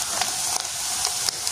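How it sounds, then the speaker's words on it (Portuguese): Chopped bacon, about 200 grams, frying in a pan, giving a steady dense sizzle with faint crackling pops throughout, close and continuous, with no talking. "Agora que o bacon fritou bem"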